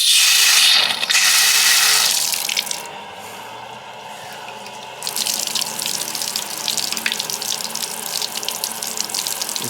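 Hot water gushes steadily from a bathtub faucet, a loud continuous splashing stream that softens briefly midway before returning at full flow, with no voices.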